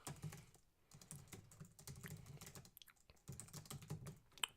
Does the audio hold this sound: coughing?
no